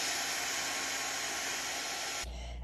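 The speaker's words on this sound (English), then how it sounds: "A hair dryer works really well for this." A hair dryer runs with a loud, steady whooshing roar as it heats lemon-juice writing on paper. Near the end the airflow tone drops as the setting changes.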